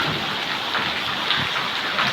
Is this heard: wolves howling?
no